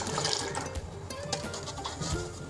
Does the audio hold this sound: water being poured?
yes